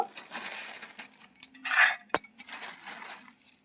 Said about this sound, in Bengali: চালটা আমি ধুয়ে নেব